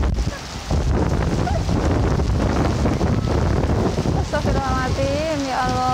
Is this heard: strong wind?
yes